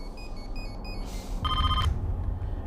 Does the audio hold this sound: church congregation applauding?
no